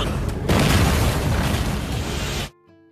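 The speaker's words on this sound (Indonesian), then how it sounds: "Su Yang langsung meledakkan senjata antar ruang itu sampai membuat Su Tao dan naga gila terpental karenanya" A loud, sustained blast from an interdimensional weapon detonating in an animated series, roaring as one dense burst for about two seconds before cutting off abruptly into quiet.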